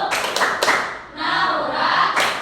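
Third-grade classroom children do a rhythmic cheer clap, a few sharp, close claps followed by a burst of young voices chanting together, with another clap at the end.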